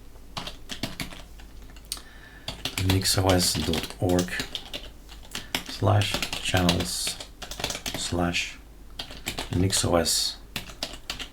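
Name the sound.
typing a terminal command on a computer keyboard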